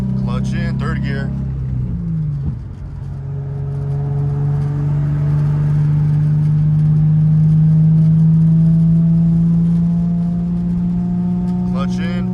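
A manual transmission car is driven while shifting gears, its engine droning steadily at a loud, close level under a voice that speaks at the start and end.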